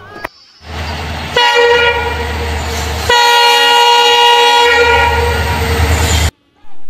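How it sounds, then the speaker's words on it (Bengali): A passenger train arrives at a small stop on the way toward Kushtia, its horn blaring in two long, loud, close blasts over the heavy rumble of the engine and wagons, then cutting off abruptly. "ট্রেন এসে গেছে"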